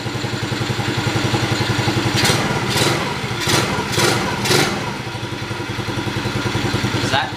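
A small engine on a cheap garage-sale ATV runs at a rough, loud, pulsing idle after starting, with several sharp bursts of higher noise as it revs partway through.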